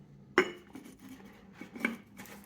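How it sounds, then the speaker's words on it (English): A clay lid settles onto a clay teapot holding pu'er tea with a single sharp ceramic clink, followed by a couple of softer scraping taps as it seats, quiet and close. "Put the lid on,"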